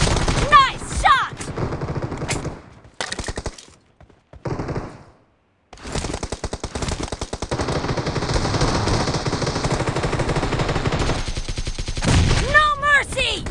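Rapid automatic gunfire and bursts of shots from a PUBG Mobile team deathmatch, loud and nearly continuous with brief pauses, mixed with game announcer voice lines.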